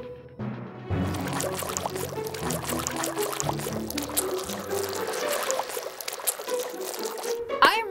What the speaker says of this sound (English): Now it's time to pour your ingredients into your drink.